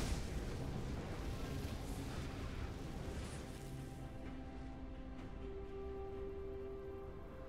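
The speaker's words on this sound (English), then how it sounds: "Blue team's turret has been destroyed." A turret is destroyed in League of Legends, heard as a heavy explosive rumble and crash that fills the start and fades into lighter game effects.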